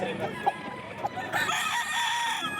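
A rooster crows at a busy Bocaue tiangge market, its clucks and crowing close and loud over general market bustle, with other fowl calls around.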